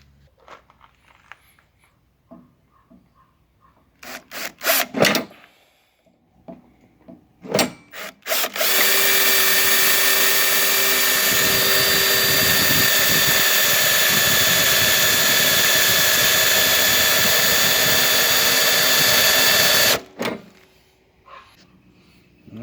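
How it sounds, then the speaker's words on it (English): A power drill bores holes for plug welds during repairs to a Stiga Park 2000E, running as one loud, sustained whine for about eleven seconds after a few scattered clicks and knocks. "Holes drilled."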